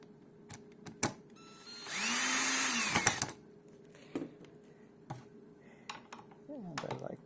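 A power drill driving screws into IKEA furniture whirs in a short burst of about a second, surrounded by clicks, knocks and handling sounds.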